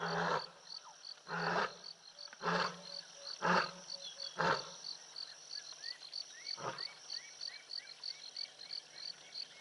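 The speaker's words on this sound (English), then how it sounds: "this is a lioness calling" A lioness calls in a series of deep, loud grunting roars spaced about a second apart, then trailing off, with crickets and frogs chirping steadily in the night background near the Olifants River.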